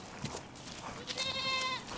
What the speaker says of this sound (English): we get the herd of goats and we move them around place to place